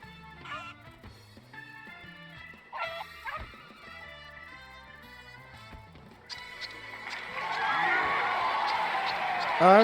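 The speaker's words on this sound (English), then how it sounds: "Creepy dog." A dog barks in Final Fantasy XIV, with a few sharp barks among game music and effects early on, followed by louder, denser game sounds toward the end.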